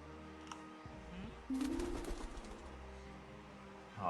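Pigeons coo in a video game, a soft low warble under a steady electronic hum, joined midway by a louder burst of game sound and a brief clatter.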